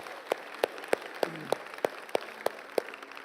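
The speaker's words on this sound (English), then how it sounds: "Let's give God a round of applause today" Sparse, evenly spaced claps from a church congregation after a closing prayer, about ten sharp hand claps at a steady beat over a faint room background, with no voices.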